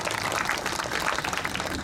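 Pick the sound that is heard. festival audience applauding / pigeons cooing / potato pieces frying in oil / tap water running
festival audience applauding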